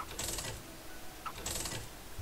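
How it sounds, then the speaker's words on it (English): Computer keyboard keys clatter in two short, quick bursts of clicks while someone plays Binding of Isaac Rebirth. The typing is faint and close, with a pause between the bursts. "I'm using a keyboard"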